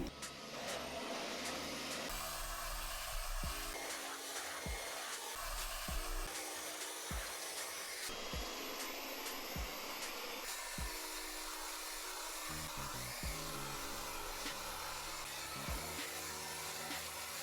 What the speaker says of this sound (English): once everything is hoovered